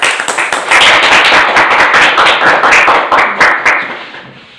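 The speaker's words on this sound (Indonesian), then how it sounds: "Kasih tepuk tangan dulu ya untuk Cynthia ya." Classroom applause from a group of students clapping hands for a classmate, a dense, steady patter of many claps filling the room, loud and continuous from start to finish.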